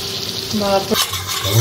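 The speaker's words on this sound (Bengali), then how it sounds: "এটা যাচ্ছে ভাজা মশলা" Fried spices land in melted butter in a pan for paneer butter masala, giving a close, steady crackling sizzle with stirring throughout the short moment.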